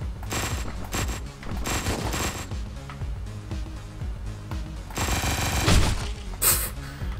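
Sustained gunfire from a first-person video game shooter played with a Steam Controller, with dense rapid bursts and shots rattling continuously throughout, louder flurries near the end.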